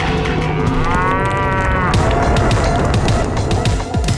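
Animated cartoon cow lets out a loud moo in the middle of a busy mix of background music and sound effects, which continue throughout.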